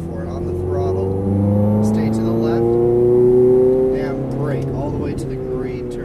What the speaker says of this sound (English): Now throttle. Go for it. Full throttle.